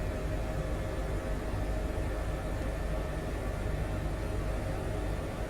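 Steady broadband roar of an H145 helicopter's turbines and rotor lifting off in Microsoft Flight Simulator, constant and loud with no change in level throughout.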